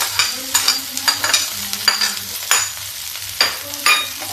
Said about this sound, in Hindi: हम फ्राई कर लेंगे थोड़ा सा करारा करारा, इसे हम फ्राई करेंगे।